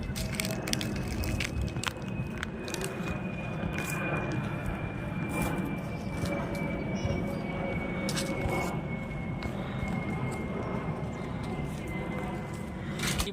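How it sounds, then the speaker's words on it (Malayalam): A passenger airplane flies toward Nedumbassery airport over a municipal park in Kodungallur, giving a steady distant engine drone with a thin whine beneath sporadic crackling and rustling noise. "നെടുമ്പാശ്ശേരി എയർപോർട്ടിലേക്ക് ലക്ഷ്യമാക്കി പായുന്ന വിമാനം"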